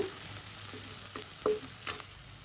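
Broccoli frying in a pan, cooked as a bhaji: a continuous soft sizzle with a few brief stirring scrapes and clinks, close and moderately quiet, with no talking.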